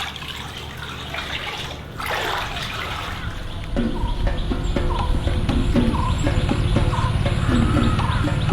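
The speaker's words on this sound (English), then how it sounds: "now we're having a really interesting bath called a sour bath" Water running in a sour bath of orange, lime, curd, tamarind and vinegar at a lake hotel in Sri Lanka, heard as a steady, loud rush with chickens clucking in the background.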